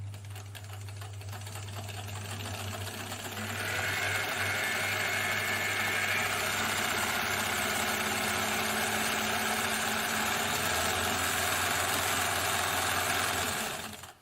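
An Elna Supermatic sewing machine runs a stretch stitch with its double-disc pattern mechanism engaged, a steady mid-pitched motor whir with rapid needle clatter that speeds up partway through, heard close and alone.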